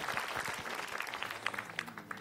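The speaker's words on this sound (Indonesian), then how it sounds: "Tepuk tangan buat Ustadz Maulana" Brief audience applause at an Islamic religious television program welcoming a preacher, a short burst of scattered clapping at moderate level.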